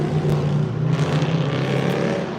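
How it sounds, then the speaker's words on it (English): Loud cars roar past outdoors, engines droning and revving close by in a steady rumble of passing traffic. "You hear them loud cars?"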